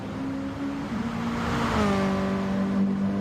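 A race car in a racing video game pulls out of its pit box, its engine tone holding steady and then rising as it accelerates away, a continuous nearby drone with no voices.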